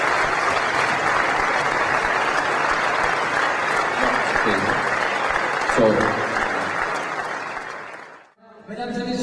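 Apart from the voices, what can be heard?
audience applause at awards ceremony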